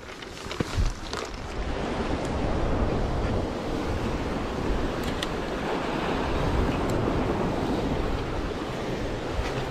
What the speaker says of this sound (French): L'eau arrive, regarde.